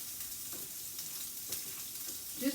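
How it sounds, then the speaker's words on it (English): Shrimp and vegetables browning in a hot pan for pineapple shrimp fried rice, a soft continuous sizzle with occasional faint stirring scrapes and pops, fairly quiet and without talking. "I just want to kind of brown that shrimp over here"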